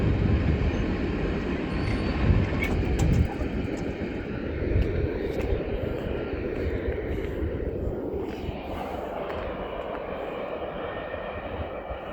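A long freight grain train with two DPU locomotives mid-train rolls past in Guthrie, Kentucky: continuous rumbling of wheels and railcars with a low engine drone, loud and close at first, then easing slightly as the cars keep passing.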